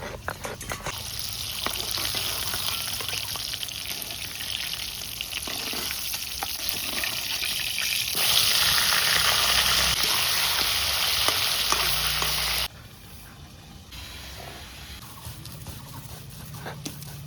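Boal fish curry frying in a pan, a steady broadband sizzle that swells louder for a few seconds before dropping back to a softer bubbling fry, with no one talking.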